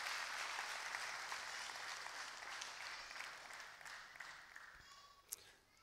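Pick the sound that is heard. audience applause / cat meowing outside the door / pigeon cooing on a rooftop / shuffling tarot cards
audience applause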